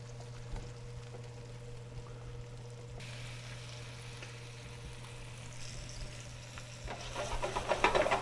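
Chicken hindquarter browns in a pan for chicken cacciatore with a quiet, steady sizzle that swells louder near the end, over a constant low electrical hum. No one speaks.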